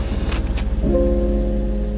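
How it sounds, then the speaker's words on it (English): A brief metallic jingle of car keys rings out near the start, followed by a steady car engine hum and a sustained tonal drone. "Keys jingling"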